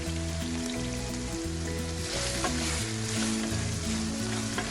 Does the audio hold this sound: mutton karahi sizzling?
yes